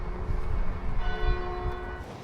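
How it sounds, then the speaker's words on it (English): Church bells ringing out over a busy town centre car park on a rainy Friday night, sustained metallic tones humming and overlapping at moderate loudness beside low background rumble. "The church bells are ringing."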